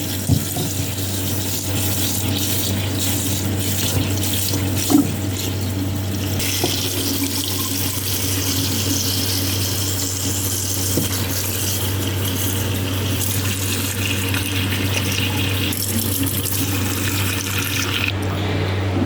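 Soup ingredients are rinsed under a running kitchen tap, a steady loud gush of water hitting the sink with brief splashes and shifts as the food is moved through the stream, and nobody speaks.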